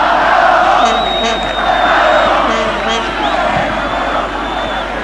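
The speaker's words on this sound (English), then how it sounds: "the crowd so far here liking what they are seeing" A large football stadium crowd at the 1995 Copa América in Uruguay, Argentina versus Chile, keeps up a continuous roar with whistles rising above it, steady and loud throughout.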